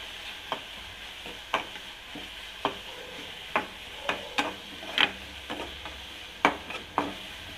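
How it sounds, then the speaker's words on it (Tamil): Onions sauté in a pan for a cassava stir-fry, a soft steady sizzle broken by regular scraping spatula strokes about every half second to second, close and clear. "வெங்காயம் கொஞ்சம் வதங்கட்டும்"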